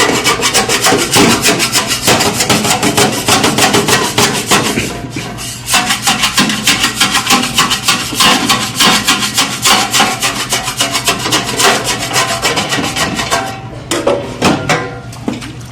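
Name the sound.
scraper scraping residue off a Duke broiler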